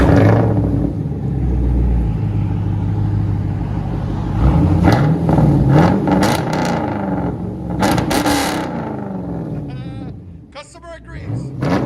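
A 2011 Chevy Camaro SS with a 6.2L V8, true dual exhaust, X-pipe delete and straight pipes, revving loud and close in rising and falling bursts, with people talking over parts of it.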